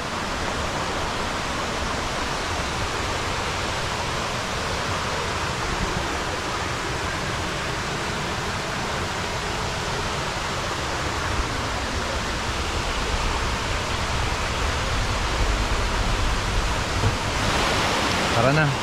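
A cold mountain stream in Calvario Patapat Natural Park flows without pause, a dense continuous wash of noise like water running over rocks close by.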